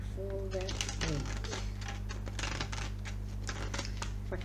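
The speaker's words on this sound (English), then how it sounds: "If I can shuffle the cards properly." Tarot cards being shuffled by hand make a run of quick papery riffles and taps close by. A voice talks over them, and a low steady hum runs underneath.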